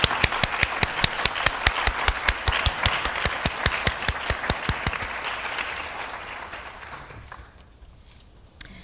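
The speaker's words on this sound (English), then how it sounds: "Let's have a round of applause for them" An audience applauds at a nursing honor society chartering and induction ceremony, a dense round of clapping with sharp individual claps standing out, loud at first then gradually thinning and fading to near quiet.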